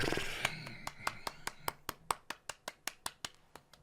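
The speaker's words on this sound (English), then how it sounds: "That Dumbledore clap" Hand claps in a slow, steady rhythm, about fifteen sharp strikes spaced evenly and gradually quickening slightly, alone and close with no talk.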